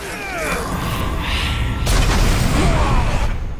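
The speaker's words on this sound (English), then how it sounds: "that explosion from the fire arrow" A fire arrow explodes in the video game Shadow of Mordor. A whooshing build leads to a loud, sharp burst about halfway through, followed by a rumbling, crackling tail over game ambience.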